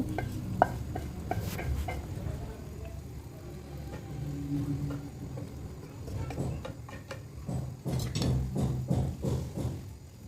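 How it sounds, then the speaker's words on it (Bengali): Fried fish goes into a boiling cauliflower curry, bringing soft bubbling and sizzling with clinks and scrapes of a spoon in the pot, close and moderately quiet, growing busier toward the end. "এখন আমি যে মাছগুলো ভেজে রেখেছিলাম সেই মাছগুলো এখানে দিয়ে দিব"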